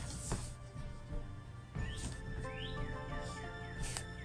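Several chirps and rising whistled bird calls sound outside at moderate distance, scattered over a steady low background hum.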